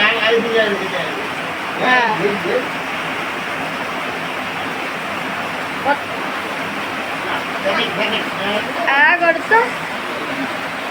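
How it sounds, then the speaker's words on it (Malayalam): Heavy rain pours down outside as a constant dense hiss, with people talking intermittently over it. "പുറത്ത് നല്ല മഴയാണ് കേട്ടാ"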